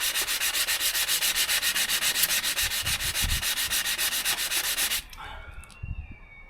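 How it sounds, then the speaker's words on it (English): A brand-new flap disc on an angle grinder grinds a tile sink basin, giving a loud, close, rhythmic rasping that pulses evenly for about five seconds before cutting out into a fading whine and light handling noise. "This is the brand new flap disc as well."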